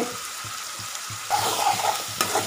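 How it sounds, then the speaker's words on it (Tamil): Shrimp with garlic and ginger sizzles in hot oil for a shrimp curry, with a steady frying hiss and soft rhythmic scraping thumps as the pan is stirred, growing louder and busier in the second half. "அந்த போட்டிருக்க வெள்ளைப்பூடு இஞ்சி இறால் மூணுமே அந்த எண்ணெயில் நல்லா சுருளை வேகணும்"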